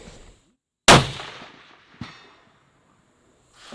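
Single loud rifle shot fired at a mountain goat during a Colorado hunt, sharp crack with a long rolling echo decaying over a second or more, followed by a fainter secondary report.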